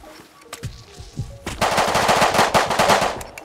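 Automatic gunfire in the survival game Rust, a few scattered single shots followed by a loud, sustained rapid burst from a machine gun, close and dense with no talk.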